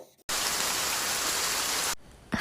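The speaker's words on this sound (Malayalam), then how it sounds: "പുറത്ത് മഴയാണെങ്കിലും" Steady rain falling outside, a dense, even hiss that starts abruptly and holds at a constant level for under two seconds before cutting off, fairly close and moderately loud.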